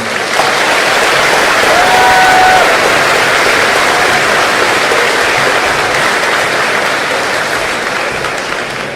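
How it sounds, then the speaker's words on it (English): Loud, dense applause from a big graduation audience honoring the graduating young men and women, a continuous roar of clapping that holds steady and fades slightly at the end, with a brief whistle early on. "Please join me in giving a resounding applause for these young men and women"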